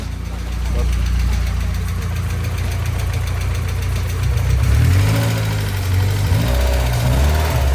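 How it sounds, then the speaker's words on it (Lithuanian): A BMW E30 318i engine running at idle, a steady close low rumble with a slight uneven knock that swells a little partway through. "užkūriau mašiną"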